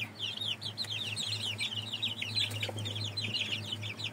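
A pair of Indio chickens cluck inside a coop, a dense stream of short clucks and chirps chattering continuously over a low steady hum.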